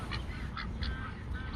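Several geese honk in short bursts close by, a few calls spaced through the moment over a steady low rumble of background noise.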